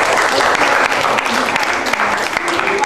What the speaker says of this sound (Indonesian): tepuk tangan, tepuk mantul